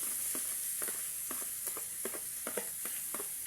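Bamboo shoots (labong) dropped into a hot pan give a steady close sizzle, with a run of short, regularly spaced scraping or stirring clicks over it.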